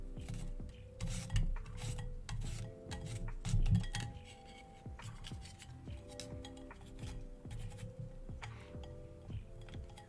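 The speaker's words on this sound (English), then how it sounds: "you get me grating a zucchini, which I hope you enjoy on this very tiny grater" Zucchini rubbed over a very small metal grater, a steady rasping scrape with light clinks of metal, quiet and close, no talking.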